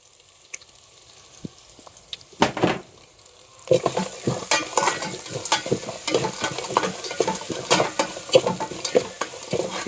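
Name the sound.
ground garlic and cumin paste added to frying pan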